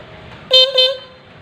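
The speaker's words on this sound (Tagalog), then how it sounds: "stock horn yan mga lods" A stock car horn honks twice in quick succession, loud and close, with a steady tone over a quiet idle background.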